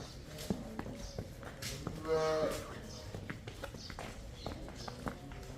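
A cow gives a short, low moo amid farmyard noise, with scattered footsteps and clatter around it and voices faintly in the background.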